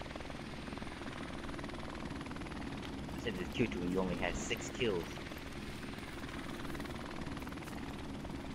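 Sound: helicopter in video game Modern Warfare Remastered

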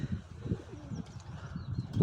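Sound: pigeon cooing

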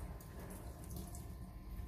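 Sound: water running from a tap onto a goalkeeper glove

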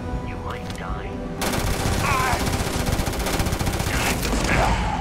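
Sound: fully automatic assault weapon firing in video game Starfield

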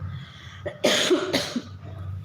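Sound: cough

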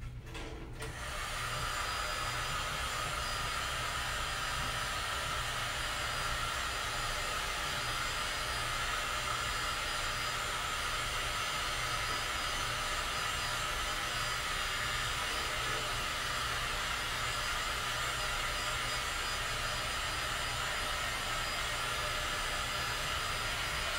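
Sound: heat blower applying heat to stretch a shoe

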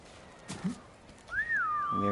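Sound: whistle calling horse in video game Ghost of Tsushima

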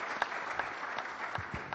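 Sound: audience applause for the conference organizers

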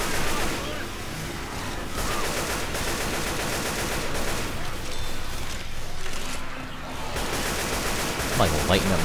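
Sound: gunfire in the video game Left 4 Dead

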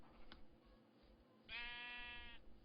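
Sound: sheep bleating in the video game Minecraft

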